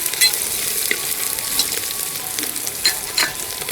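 Ginger paste stirred into browned onions frying in oil, a steady hiss of sizzling with a few spoon scrapes and clicks layered over it, close and continuous, no speech.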